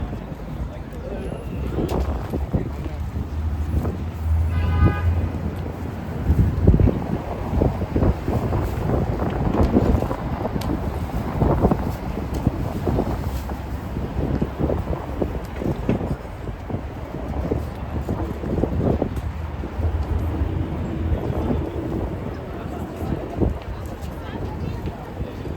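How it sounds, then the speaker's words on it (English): Gusty wind of around 20 miles per hour on a spring street in Chinatown, Lower Manhattan, New York City, buffeting the microphone in steady rumbling bursts over distant city noise, while a person talks intermittently. "Wind gusts are like 20 miles an hour today."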